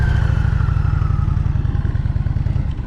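An Indian Challenger motorcycle running a Ride Like a Pro cone course: a loud, close, steady low engine throb with a pulsing rhythm, dipping slightly toward the end.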